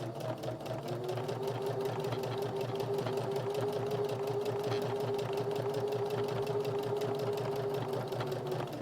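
A sewing machine stitching a denim keychain made from scrap jeans, running steadily for several seconds with a continuous mechanical whir and a rapid rhythmic needle chatter, up close and undisturbed by talk.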